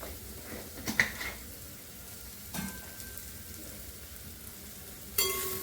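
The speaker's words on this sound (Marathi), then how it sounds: "हे छान परतून घ्यायचं मसूर" Whole masoor lentils sautéing in a pan, a quiet, low sizzle with a few sharp clicks and scrapes of stirring scattered through.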